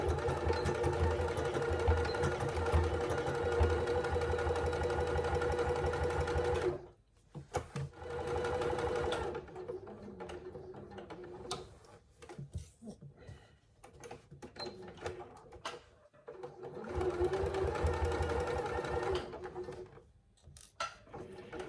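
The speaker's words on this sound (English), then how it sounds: "you're going to stitch down one side, across the bottom and up again" A sewing machine runs in steady bursts while stitching down the side, across the bottom and up a fabric zip pouch, with a pause partway and then further shorter runs of stitching, loud and close.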